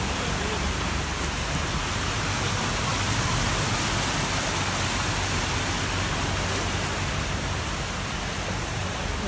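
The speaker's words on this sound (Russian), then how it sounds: "Для этого нужно перейти вот эту реку." Floodwater in Arcadia, Odessa, in September 2018 rushes along a street like a river, making a constant hiss and roar that stays level throughout with no clear voices.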